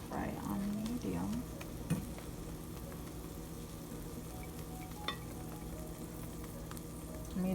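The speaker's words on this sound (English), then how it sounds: "And let it fry on medium." Egg omelette frying in a pan over medium heat, a steady soft sizzle that runs the whole time, with a few faint utensil clicks and a brief voice near the start.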